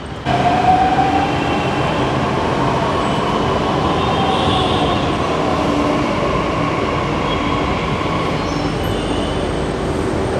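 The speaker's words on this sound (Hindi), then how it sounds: "अब आएगी नोएडा इलेक्ट्रॉनिक सिटी वाली मेट्रो, और जैसे आएगी उसमें चलते हैं।" A metro train arriving at Indraprastha station rumbles steadily and loudly for the whole stretch, with a brief high wheel squeal near the start and a continuous low roar of rails.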